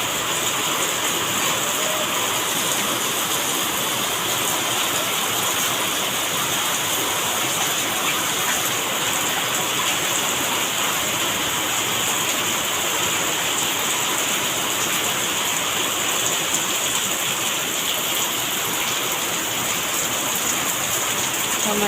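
Heavy rain pours steadily with a dense, unbroken hiss that stays loud and even throughout, with no voices.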